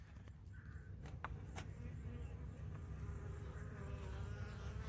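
A low, steady buzzing of many bees droning close by in a hive box, continuous throughout, with a few faint clicks and knocks on top.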